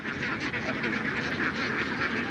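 A crowd of free-ranging farm ducks raised on paddy, maize and wheat keeps up a thick, unbroken chorus of quacks nearby, loud and steady throughout.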